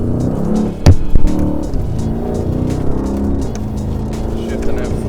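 A 2019 Mercedes-Benz E63 S engine revs hard and shifts gears on a track, a loud continuous drone with a sharp burst near the start and brief dips at each shift.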